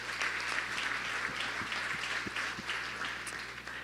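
Audience applause at a company conference opening session, a steady, fairly distant wash of many hands clapping throughout with a few sharper claps standing out.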